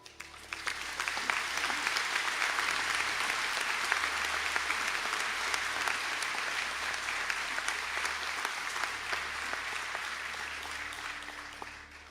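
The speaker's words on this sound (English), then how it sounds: "I'd like to invite the Bachelor of Business and Management applications to please stand for a round of applause." Sustained applause from a large audience at a college conferring ceremony in Sligo, many hands clapping steadily in a hall, swelling at the start and tapering off at the end.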